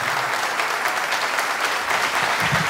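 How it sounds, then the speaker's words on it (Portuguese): An audience applauds students at an instrumental music performance, a dense, steady patter of many hands clapping at once, loud and continuous from start to end with no voices over it. "Uma salva de palmas para os meus aluninhos."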